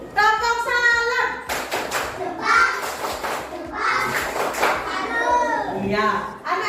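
Schoolchildren in a classroom chant a clapping rhyme (tepuk salam) together, their sung voices loud and close, broken by bursts of rhythmic hand claps.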